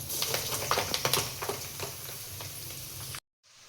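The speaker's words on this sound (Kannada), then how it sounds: "ಈಗ ಈರುಳ್ಳಿ ಗೋಲ್ಡನ್ ಕಲರ್ ಫ್ರೈ ಆಗಿದೆ." Onions sizzling and frying in a pan, a steady dense crackle with scattered sharper pops and occasional stirring clicks, fairly close, no voices, cutting off abruptly near the end.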